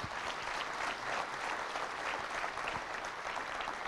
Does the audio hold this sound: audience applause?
yes